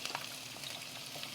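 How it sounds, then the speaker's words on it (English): Diced red onion sizzles in bacon drippings in a skillet over medium heat, a steady close crackle and hiss with small pops running throughout. "Ooh, listen to that sizzle."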